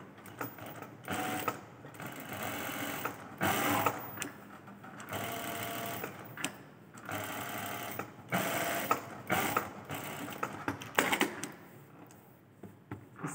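A sewing machine stitches fabric for a torso foundation garment in bursts of rapid mechanical clatter, several runs separated by short pauses, close and clear.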